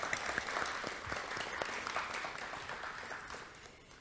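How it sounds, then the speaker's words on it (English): An audience at a student well-being event applauds, a dense steady round of clapping that tapers slightly toward the end, with no speech on top. "I also want to give a round of applause to the audience, to everyone who showed up tonight"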